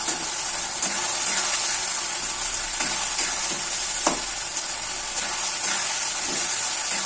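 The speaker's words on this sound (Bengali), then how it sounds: "মশলাটাকে ভালো করে কষিয়ে নেব।" Tomato and spice masala for an egg curry sizzles in a pan with a steady, loud, hissing fry, broken by faint scrapes and clinks as it is stirred.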